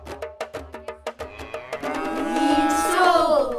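A cow moos: a series of short rhythmic grunting pulses leads into one long, loud, drawn-out bellow close to the recorder.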